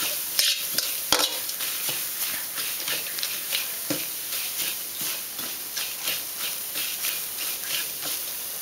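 Lemongrass, kaffir lime leaves and coriander root are dry-roasted in a pan, stirred with a steady run of scraping, rustling strokes and a soft crackle, close by and moderately loud.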